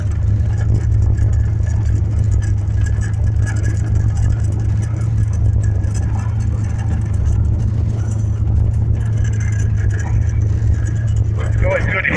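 A car with no brakes rolls over a small dirt mound, its engine droning loud and close in a steady rumble, with a rattly jolt near the end.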